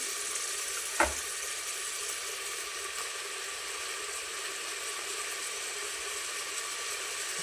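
Chopped tomatoes frying in a pan with browned onion give a steady, moderate sizzle close by, broken early on by a single sharp knock of a utensil.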